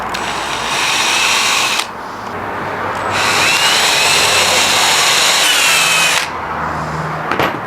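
A power drill whirs in two long bursts, high and buzzing, separated by a brief pause, close and loud with a short trailing burst at the end.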